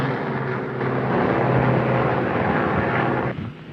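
A 1940s propeller aircraft approaching an aircraft carrier deck to land gives a loud, steady engine drone with a rough, broadband roar that holds for a few seconds and then eases off near the end.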